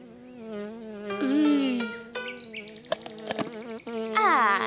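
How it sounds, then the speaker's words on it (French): A cartoon bee buzzes in an animated children's scene, a wavering insect drone rising and falling over background music, with brief clicks and swells. "Une abeille!"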